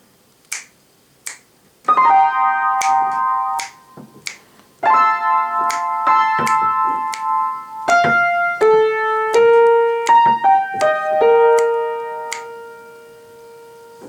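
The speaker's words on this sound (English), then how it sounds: "your right hand high xylophone part is going to sound like this during the interlude" A piano plays the high xylophone part of an interlude, a bright, high melodic line of ringing notes, a few short sharp taps at the start, with no talking.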